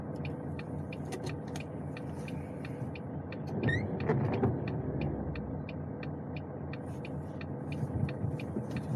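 A sand-spreading truck rumbles past on a snowy road, its low engine drone swelling in the middle and fading, with rhythmic ticking clicks and a brief squeak heard nearby.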